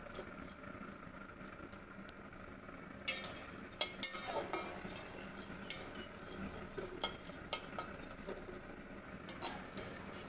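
Dried fish (shutki) frying in a pan, stirred with a metal utensil: quiet low sizzle at first, then a run of sharp clinks and scrapes against the pan, close and intermittent, no talking.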